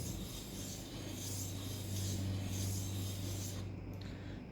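Hardened high-speed steel gauge blocks are lapped by hand, making a steady, continuous gritty rubbing that swells and eases in slow strokes before stopping near the end.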